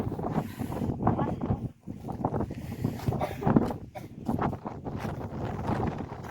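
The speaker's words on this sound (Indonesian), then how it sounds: "Anginnya tambah gede." Strong gusty wind buffets the microphone on a mountain hilltop, with deep rumbling roars that rise and fall and a sudden lull early on.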